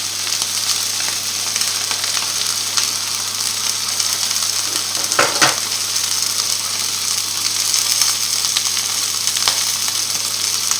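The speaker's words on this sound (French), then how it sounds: "On fait revenir à peu près 1 minute de chaque côté, pas plus." A tournedos steak sears in a hot frying pan, giving a steady, dense sizzle with a few sharper crackles and one brief louder spit midway, with no talking.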